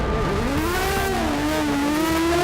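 An Aston Martin Vulcan's engine revs hard and accelerates, a loud, close, continuous roar whose pitch climbs and shifts through the gears, alone without talk.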